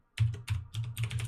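Soft keyboard typing, close-up and whispery quiet: a handful of short bursts of keystrokes tapping on a computer keyboard, with no talking.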